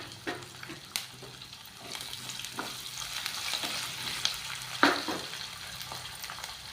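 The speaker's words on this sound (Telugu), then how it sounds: "తర్వాత ఇక పచ్చిమిరకాయల ముక్కలు పొడుగ్గా, ఉల్లిపాయ ముక్కలు పొడుగ్గా ఇలా కట్ చేసుకొని వేసుకోవాలన్నమాట" Long-cut green chillies and onion slices frying in a pan for poha upma, with a soft continuous sizzle, scattered stirring scrapes and a louder clank near the end, close but quiet with no voices.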